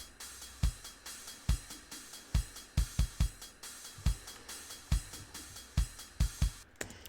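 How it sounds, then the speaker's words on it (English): A full pop punk drum loop programmed in FL Studio plays back, with punchy kick and snare hits in a steady driving rhythm under a wash of cymbals, loud and alone with no talk. "the full drum loop that I made sounds like this."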